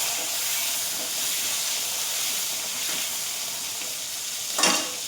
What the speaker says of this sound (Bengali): এই যে পটল আমার অর্ধেক ভাজাও হয়ে গেছে, আলু ভাজা হয়ে গেছে